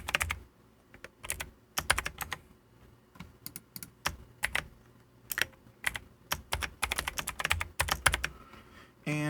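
Password keys tapped on a computer keyboard while setting up a local user, coming as irregular bursts of close, crisp clicks with brief pauses between runs and no talking.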